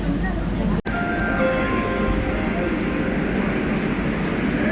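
A metro train rumbles steadily with broad, continuous noise and faint rising whine, briefly broken by a sharp cut near the start, as passengers prepare to get off at a stadium stop.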